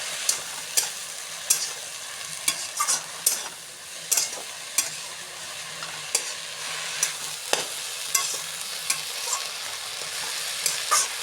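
Kalmi sag, or water spinach, fries in a pan with a steady soft sizzle, while a utensil stirs it in sharp periodic scrapes and taps, close up, with no voices.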